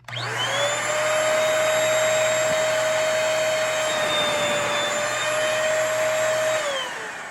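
Simply Stick cordless vacuum cleaner running continuously at close range, a loud steady high-pitched whine with a low hum underneath that spins down at the end.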